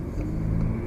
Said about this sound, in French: Le bruit moteur va être également amélioré en termes de sonorité.